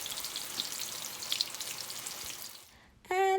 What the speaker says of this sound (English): This is roasted breadfruit, which I'm actually frying.